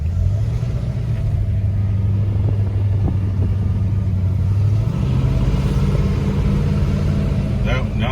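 Ford Torino with a 351C V8 and Sniper EFI on the road, a deep steady engine rumble from inside the car that rises in pitch partway through as it pulls, with people talking over it.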